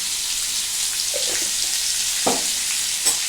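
Potatoes fry in ghee, a soft, steady sizzle broken by a few light scrapes and knocks of stirring, with no one talking.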